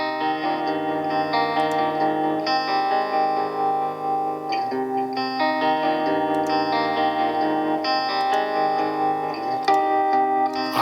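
Clean electric guitar through a tremolo effect in a studio mix, chords with a gently pulsing, wavering volume, steady and upfront, no voices.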